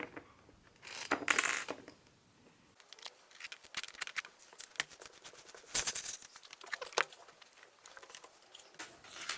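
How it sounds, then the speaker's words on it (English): Loose metal bolts rattle and clatter out of an acrylic valve block in quick, irregular bursts of sharp metallic clinks, close and distinct, with no talking. "Let's shake the bolts out."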